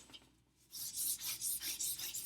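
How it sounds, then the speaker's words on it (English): Charcoal rubbed across paper in a drawing, a soft rhythmic rasping of repeated short strokes, close and fairly quiet. "we just have to rub the charcoal"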